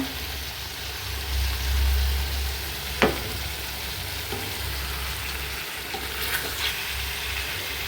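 Pumpkin and bitter gourd frying in a pan, a steady sizzle with a few sharp spatula scrapes and clicks as the vegetables are stirred, close by and without talk.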